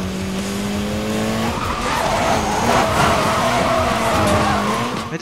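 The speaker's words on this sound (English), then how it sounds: "I just crashed it again." A Mitsubishi Lancer in the racing game Need for Speed Most Wanted skids with a loud, sustained tire squeal over its revving engine, the screech swelling into a crash with no pause.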